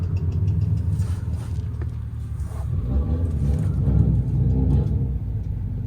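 A car circles a parking lot at night in Hokkaido, heard as a steady low engine rumble and tire drone that swells slightly as it passes, continuous and fairly loud.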